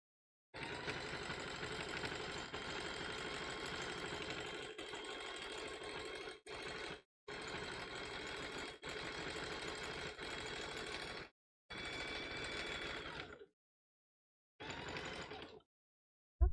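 A sewing machine stitches a big basket base in steady, buzzing runs, stopping and starting several times with short silent pauses between bursts and no talking.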